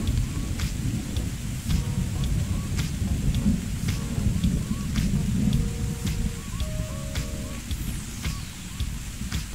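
Steady rain with low rumbling thunder fills an Arma 3 storm scene, with faint short tonal game sounds scattered over the dense wash.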